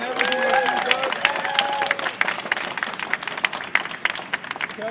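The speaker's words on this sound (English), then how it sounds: "let's hear a big round of applause for Kelly Conlon" A crowd at a political event gives a sustained round of applause for Kelly Conlon, with dense clapping filling the room while a speaker's voice carries over the start.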